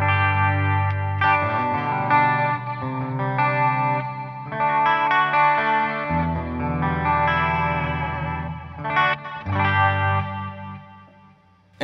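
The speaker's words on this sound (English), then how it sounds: "So now you hear the chorus kicking right away." Electric guitar through a Line 6 Helix with a chorus effect on a parallel path rings out in sustained strummed chords and short phrases, loud and shimmering, with no talking.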